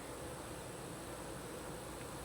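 A faint, continuous buzzing hum of honeybees washboarding at the front of a beehive, steady and unbroken, with no voices.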